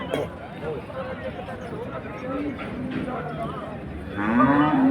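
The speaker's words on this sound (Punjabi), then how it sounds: "ਜਰਸੀ ਵੈੜ ਜੀ ਸੂਨ ਵਾਲੀ ਬਹੁਤ ਵਧੀਆ ਖੜੀ ਹੈ ਦੇਖ ਸਕਦੇ ਆ ਇੱਕ ਜਰਸੀ ਆ ਖੜੀ ਹੈ" Jersey cattle lowing at a livestock market, several drawn-out moos rising over a busy background of people talking and crowd murmur, with a louder, nearer moo toward the end.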